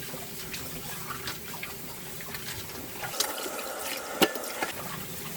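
Water splashing and sloshing as duck meat is washed in a basin, with small drips and a few sharp knocks toward the end.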